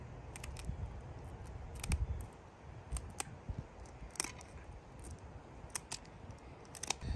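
Close, sharp snips cut off the fin spines of a lionfish on a filleting surface, several crisp clips spaced irregularly over quiet background handling noise.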